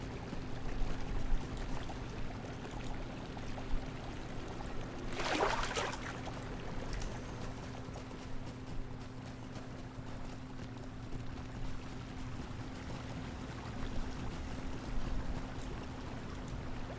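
Water flows steadily in a Lord of the Rings Online game world, a continuous pouring wash with a brief louder splash, alongside hoof-like clip-clop steps.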